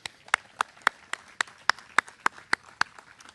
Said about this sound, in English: I'd like you to give another well-deserved applause to Captain Chandler